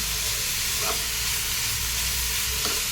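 Carrot halwa being stirred in a pan gives a steady, moderately loud sizzling hiss throughout, with a couple of faint scraping strokes and no voices.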